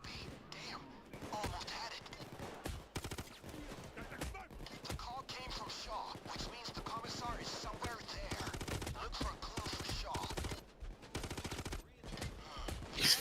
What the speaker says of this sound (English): Oh no, I've been sniped!